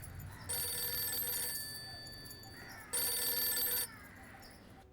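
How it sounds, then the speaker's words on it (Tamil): A telephone rings in two bright electronic bursts with a pause between, clear against a quiet room. "மாமா ஃபோன்."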